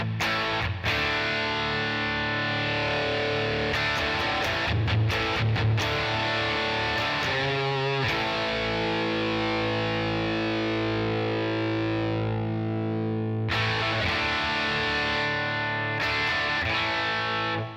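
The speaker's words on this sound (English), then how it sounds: "So now let's do that same thing with the black op on." Electric guitar through a Black Op distortion pedal, placed relative to a volume pedal on a Headrush pedalboard, with thick, saturated sustained chords and occasional re-strikes ringing continuously and loud, with no voices.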